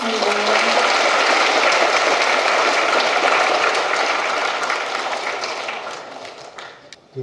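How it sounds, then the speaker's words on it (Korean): A church crowd at a priest's first Mass breaks into sustained, loud applause, steady and dense for several seconds before tapering off near the end. "박수 청해주십니다."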